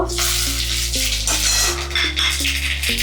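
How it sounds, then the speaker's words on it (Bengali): Dried chillies, bay leaves and whole cumin seeds crackle and sizzle loudly in hot oil in a pan, a steady close fry with stepped, humming tones underneath. "তেল গরম হয়ে গেছে আমার, এবারে ফোড়ন দেবো জিনিসটা। আমি শুকনো লঙ্কা দিয়ে দিলাম, এখানে তেজপাতা আর গোটা জিরে দেব"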